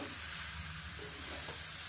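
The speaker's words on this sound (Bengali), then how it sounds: "চিংড়ি মাছটা দিয়ে আবারও খুব ভালোভাবে সব কিছুর সাথে একটু মিশিয়ে নেব" Fried shrimp stirred into a sizzling spice masala with pui shak in a hot pan: a steady, close frying hiss under soft scraping strokes of a spoon, no talk.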